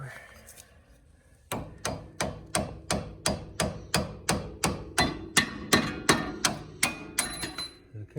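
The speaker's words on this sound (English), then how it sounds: "Hammer." Steady series of about sixteen sharp metallic hammer blows on a bolt in the driver-side axle of a 1998 Honda Prelude Type SH, evenly spaced and close, beginning after a quiet second and a half.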